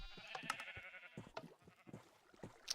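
Sheep bleating in Minecraft near flowing water, several short bleats over soft background noise, faint and fairly close.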